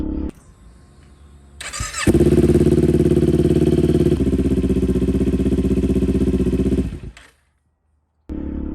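A Suzuki Gixxer 150SF motorcycle with a Yoshimura full exhaust starts up and settles into a loud, throaty idle close by, then cuts out briefly before running again.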